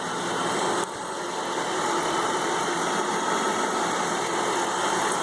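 A Dodge Charger's 5.7-liter Hemi V8, with a K&N air filter and Diablo tune, idles steadily and close by, a continuous low rumble with a constant hum and no talking.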